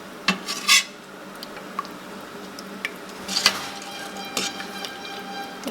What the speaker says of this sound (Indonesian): Coba kita aduk dulu ya.